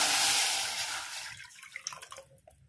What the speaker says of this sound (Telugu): ఈ వాటర్తో సహా అన్ని ఇందులో వేసి ఉడికించుకోవాలి